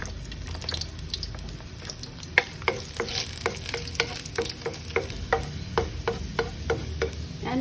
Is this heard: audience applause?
no